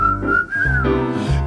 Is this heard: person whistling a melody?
yes